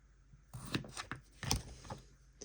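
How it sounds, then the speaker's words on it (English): A knife thinly slicing potatoes on a cutting board, a quick series of close, crisp cuts and taps in an irregular rhythm, fairly quiet with no talking. "Now we're going to thinly slice our potatoes"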